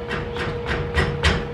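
Light hammer taps on a steel horseshoe hanger, five evenly spaced metallic strikes, the last two a bit heavier, close and clear over a faint workshop hum.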